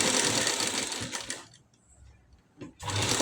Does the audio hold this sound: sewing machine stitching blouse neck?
yes